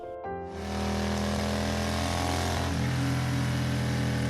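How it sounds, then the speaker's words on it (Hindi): A motorbike engine starts up in an animated horror story, then settles into a steady, loud, droning idle with a constant low hum that shifts pitch slightly partway through. "अगले दिन सक्सेना अपनी बाइक से डेविड के पास जाता है।"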